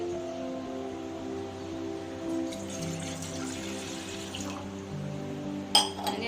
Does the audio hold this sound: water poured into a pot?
yes